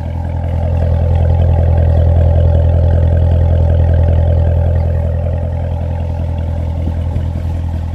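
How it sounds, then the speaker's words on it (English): 2017 Chevrolet Corvette Z06 exhaust heard close up as a loud, deep, steady engine rumble with only slight swells in pitch, running alone without talk for eight seconds. "Exhaust sounds amazing."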